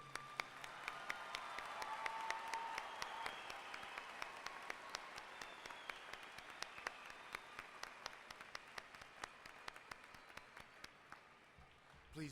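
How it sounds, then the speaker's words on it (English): Applause from a large crowd honoring graduates at a university commencement ceremony, a steady wash of many hands clapping that carries on for several seconds, heard at a distance through a hall, with brief voices underneath. "Please join me in applause for these outstanding graduates."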